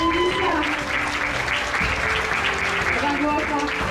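Thunderous applause from an audience at a beauty pageant honouring a contestant, continuous and loud, with voices and cheering mixed through the clapping.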